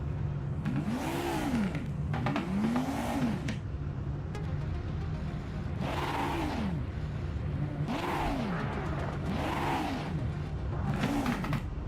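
A race car engine in the racing game Project Motor Racing revs up and down in repeated surges, with crackling exhaust pops between gear shifts, steady and loud throughout.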